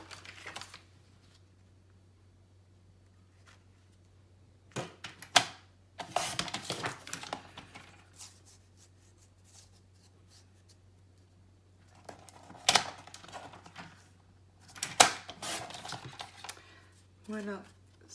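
Paper for a Stamperia New England scrapbook album page is cut to size, with scattered crisp snips and rustling handling sounds, close and intermittent amid long quiet stretches over a low steady hum, while someone narrates in French.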